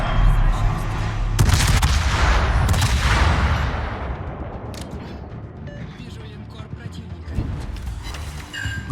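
Warship turrets fire in World of Warships aboard the French battleship Charles Martel, loud deep booms with rolling rumble that fades over several seconds before another blast, with someone speaking at times.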